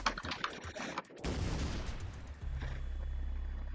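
Weapon shots in the Shellshock Live artillery game come as a dense burst of sharp crackling blasts, followed by a sustained rumbling barrage and a low droning tone. The volume is moderate and there is no talk over it.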